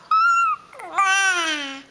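A six-week-old baby babbling close by, two short vocal coos with rising and falling pitch, the second longer and sliding downward, soft and alone.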